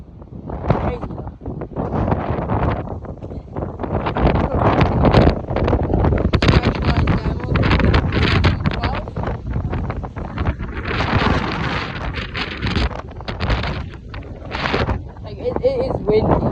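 Strong storm wind roars and buffets the microphone almost without pause during heavy weather on a mountain-bike outing, loud and gusting, with a voice talking intermittently over it.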